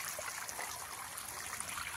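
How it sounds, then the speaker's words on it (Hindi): Borewell water running on a small farm, a steady, close rushing and splashing flow with no voices. "बोर का पानी, हमारे बोर है का पानी चालू है, ठंडा रहता है"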